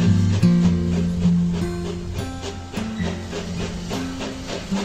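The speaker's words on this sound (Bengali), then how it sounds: "তার কিছুক্ষণ পরেই আমাদের সামনের রেল লাইনটার উপর দিয়ে একটি বিকট আওয়াজ করে চলে গেল বিশাল যানবাহনটা।" Train passing along a rail line as a dramatized sound effect, loud and close, with steady rumble, hissing and repeated rhythmic wheel clatter over the rails.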